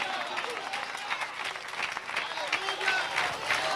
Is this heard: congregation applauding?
yes